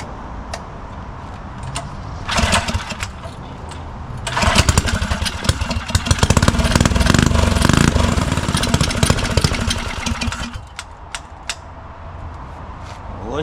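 A small engine on a custom Motovox mini bike catches and runs, rising from quiet handling noises into a loud, rough, buzzing roar for several seconds before dropping back to a low idle-like rumble.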